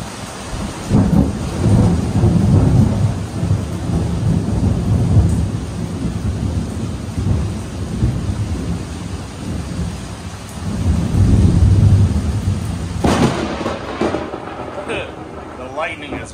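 Heavy rain and rolling thunder from a thunderstorm at sea around sailboats, with a steady loud wash of rain and deep rumbles, and a person talking over it.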